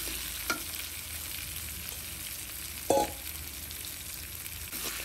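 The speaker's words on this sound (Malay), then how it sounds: "kita panaskan minyak dan kita tumis goreng macam ni lah" Sliced giring sizzles and spits gently in hot oil in a pan, a steady soft frying hiss with a couple of brief stirring clinks, close and without talk.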